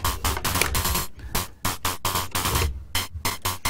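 A Schlappi Engineering Interstellar Radio synth module under very fast audio-rate modulation sputters out loud, choppy bursts of harsh static noise, cutting in and out in an irregular stuttering rhythm, with no talk.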